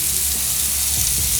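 Thick pork chops sear on a gas grill, giving a steady, close hiss and sizzle with faint crackles running continuously, no voices over it.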